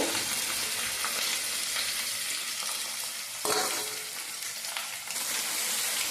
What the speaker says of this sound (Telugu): తాలింపు అయితే మంచిగా వేగుతూ ఉంది